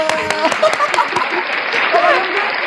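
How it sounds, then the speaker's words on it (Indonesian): Scattered hand clapping from a small group in an informal indoor gathering, sustained and fairly close, with voices talking and calling out over it throughout. "tepuk tangan, Pak. Tepuk tangan."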